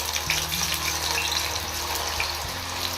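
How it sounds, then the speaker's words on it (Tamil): Baby corn pieces fry in hot ghee with a steady, dense sizzle that holds at an even level throughout. "இந்த பேபிகார்னை வந்து இந்த நெய்யில் நான் பொரிச்சிக்கிறேன்"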